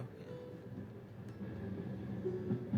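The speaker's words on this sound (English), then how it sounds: "Oh, look at those train sounds." Train rumble in the game Regolus: Dark Age, a steady low rolling drone with faint clanks building slightly toward the end, with no talk.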